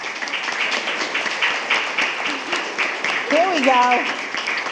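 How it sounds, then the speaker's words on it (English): Audience at a school board meeting applauding students from James Carter Elementary School, steady scattered clapping throughout with people talking over it. "Just stand and let everybody clap"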